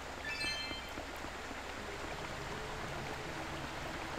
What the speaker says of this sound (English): And that is as we get water flowing